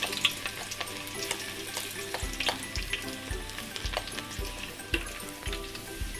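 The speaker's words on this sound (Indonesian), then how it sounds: "Minyak pada panas ya. Saya akan gorengkan bawang putih dulu ya." Garlic frying in hot oil in a home kitchen, a steady close sizzle with crackling pops and occasional stirring clicks, no talking.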